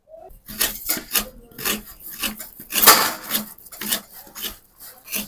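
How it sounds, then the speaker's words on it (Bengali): Ripe palm fruit pulp rasped against a metal grater in a steady run of rough, scraping strokes, close and fairly loud, with a brief pause partway through. "এখন আমি এই যে একটা গ্রেটার নিয়েছি, এর সাহায্যে তালের কাঠটা বার করে নেবো।"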